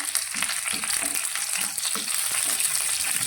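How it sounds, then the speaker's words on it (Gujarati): A tempering of sesame seeds, green chilli pieces and curry leaves sautéing in a pan, a steady crackling sizzle with light stirring knocks, close and fairly loud, no talk. "અને વઘારને આપણે સારી રીતે સાંતળી લઈશું"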